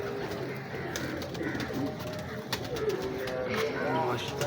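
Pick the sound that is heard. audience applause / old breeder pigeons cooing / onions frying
old breeder pigeons cooing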